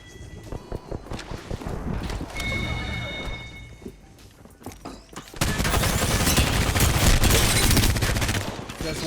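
Video game gunfire, rapid bursts of automatic shots with scattered single cracks, loud and close, rising into a dense sustained barrage in the second half.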